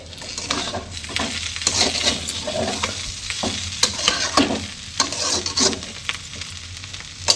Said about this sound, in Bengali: এই দেখো এখানে ভাজা হচ্ছে, এখনো হবে।